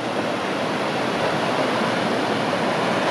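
A rushing mountain river in the snowy North Caucasus highlands near the Bezengi wall, heard close as a loud, constant roar of turbulent water with no breaks.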